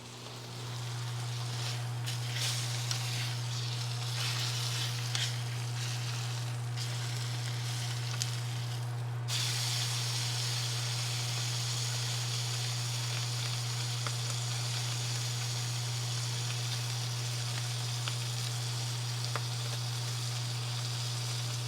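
Wagyu steak sizzling in butter in a hot pan, a loud, steady, crackling hiss that carries on unbroken over a low electrical hum.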